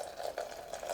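Boiling water is poured into a keto doughnut dough mixture, a soft, steady liquid trickle heard close and alone.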